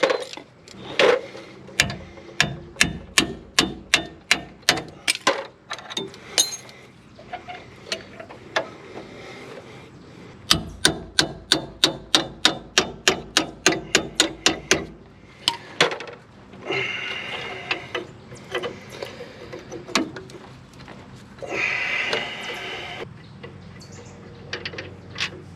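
A ratchet wrench loosens the 18mm caliper support bolts on the rear brakes of a 2004 GMC 2500 Duramax, producing close, rapid bursts of clicking in several runs separated by short pauses.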